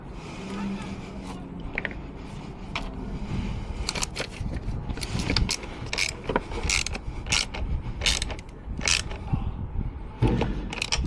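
A hand ratchet tightens fasteners on the 12V battery of a Kia EV6, with close, bursty clicking strokes and metallic mechanism noise repeating across the clip, and some handling sounds between strokes.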